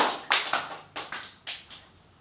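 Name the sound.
class applauding the second group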